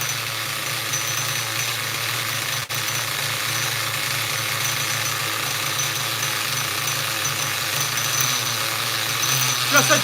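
A 2000 Duratrax Nitro Quake nitro RC car engine idles steadily and loudly up close with a constant buzzing drone, revving slightly toward the end.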